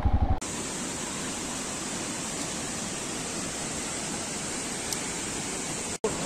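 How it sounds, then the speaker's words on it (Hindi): A waterfall in the Kalej valley near Darjeeling roars as a steady, full wash of rushing water, even and continuous throughout, heard up close with no voices over it. "एंड फाइनली आ गए हैं वाटरफॉल में"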